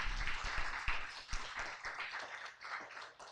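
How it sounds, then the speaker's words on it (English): Students at a school morning assembly give a round of applause, with scattered claps and taps in a fairly quiet, uneven patter at moderate distance. "So again, let's give Sam a round of applause."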